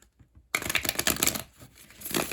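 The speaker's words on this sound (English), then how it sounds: "I'm giving them another good shuffle." A deck of tarot cards is shuffled up close in a quick flurry of papery riffles and slaps, following a brief quiet moment.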